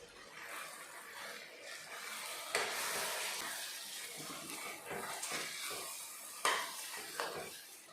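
Assamese mutton curry with cashew and coconut masala paste being stirred in a pan, scraping and clinking strokes over a soft sizzle, fairly quiet and close, with no talking.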